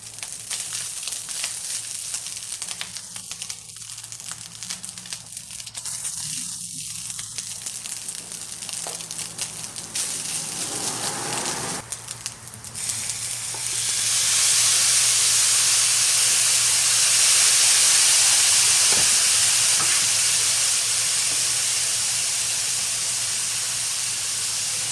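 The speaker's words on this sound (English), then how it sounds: "Now time to fry the rice before we mix it all together." Rice hits a hot pan for fried rice served alongside bistek and breaks into a loud, steady hissing sizzle about halfway through. Before that there is only a quieter, low background.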